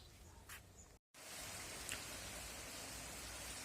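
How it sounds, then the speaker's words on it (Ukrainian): Light rain falls in a village yard on a summer morning, a soft continuous hiss of drops close by, broken by a brief dropout early on. "Бачите, як в нас паде дощ, бачите?"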